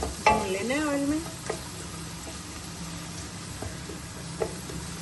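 Onions sizzle and fry in hot oil in a pan while being stirred, with a steady bright crackle throughout and a few scraping knocks of a spoon; a brief voice is heard near the start.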